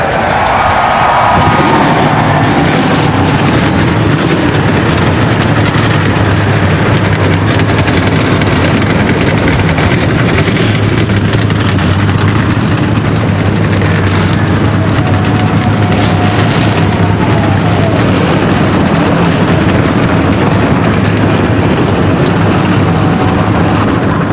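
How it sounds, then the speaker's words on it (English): Race car engines fire and idle together before a 250-lap Friday night NBS race at the Richmond, Virginia short track, a loud, steady, deep rumble that fills the whole stretch with a sustained low drone. "Engines firing, racers at the ready here at Richmond, Virginia"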